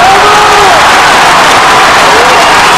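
Steady crowd applause fills a water polo match between Chios and Olympiacos in 1997, a continuous dense wash of clapping with a commentator's voice running over it.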